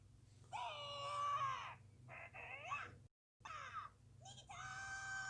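Nita, a character from the Brawl Stars video game, screams in a shrill, harsh voice. Several loud, drawn-out cries come in bursts, with a brief silent break in the middle.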